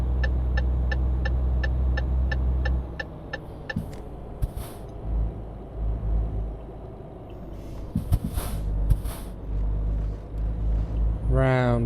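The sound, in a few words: low-power truck engine in video game Euro Truck Simulator 2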